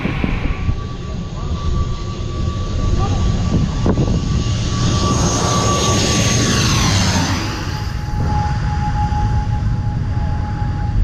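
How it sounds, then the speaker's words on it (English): An airplane passes low overhead near a beach on Skiathos, its engine roar loud and steady before sweeping down in pitch as it goes by, over constant background noise. "planes slicing through the sky just above our heads"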